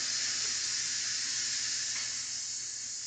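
Steady, fairly quiet steam hissing out in one continuous airy rush, with no voices.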